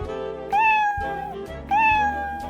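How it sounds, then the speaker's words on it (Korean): A kitten gives two distinct, drawn-out, high-pitched meows, spaced about a second apart, against a low background hum. "야옹 털복숭이 복슬복슬 귀여운 아기 고양이"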